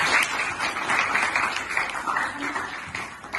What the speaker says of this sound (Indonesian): Maka tepuk tangan untuk kelompok Nasiba.